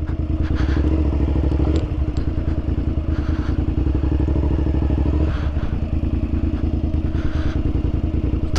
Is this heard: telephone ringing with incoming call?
no